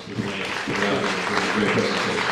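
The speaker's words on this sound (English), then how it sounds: "give a warm round of applause." Audience applause at a talk with a TV producer, a dense steady round of clapping that fills the room, with voices and murmuring mixed in underneath.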